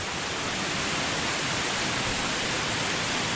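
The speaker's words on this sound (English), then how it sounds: "Many waterfalls here, and this one is big one." The big Humogo waterfall on Nias island roars with a constant, dense rush of falling water, close and loud, steady from start to finish with no other sounds standing out.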